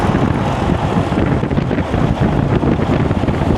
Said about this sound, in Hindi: थोड़ा हवा तेज़ चल रही है